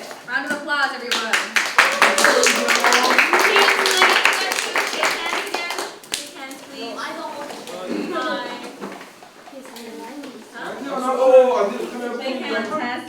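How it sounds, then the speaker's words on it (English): An audience gives a round of applause after a debate speech: dense, loud clapping for about six seconds mixed with voices, then fading into people talking. "Round of applause, everyone."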